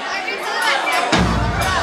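A concert crowd cheers and shouts for a performer singing, a dense, loud roar of voices that swells partway through and stays close and continuous.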